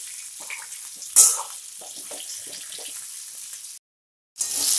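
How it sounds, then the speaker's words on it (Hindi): Pointed gourd (parwal) frying in a pan and stirred now and then, a steady close sizzle with occasional scraping bursts, briefly cutting to silence before the hiss returns. "हमको परवल को सॉफ्ट होने तक भूनना है और बीच बीच में चलाते रहना है"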